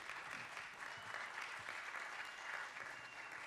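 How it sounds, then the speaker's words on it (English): A conference audience applauds a CEO walking on stage, dense steady clapping from a crowd that stays even for a few seconds, with no voice over it. "Let's give him a round of applause."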